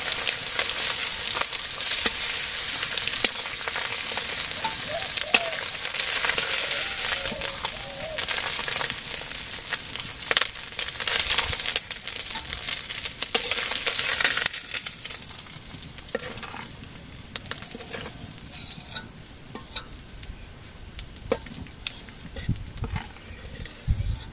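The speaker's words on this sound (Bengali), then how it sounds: "মশলাগুলো একটু কষে নিলাম পেঁয়াজ মশলা" Onions and spices fry in a hot pan with a steady, close sizzle and crackle, while a spoon scrapes and stirs through them at intervals; the frying continues the whole time and nobody speaks.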